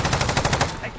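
A rapid burst of PPSh-41 submachine gun fire in Call of Duty, about eight quick evenly spaced shots that ring out loudly and then stop abruptly.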